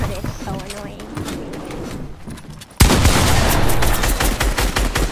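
Rapid shotgun and gunfire blasts in a Fortnite zone wars match, loud and dense, especially after a sudden jump in volume midway, mixed with game effects and excited voices talking over them.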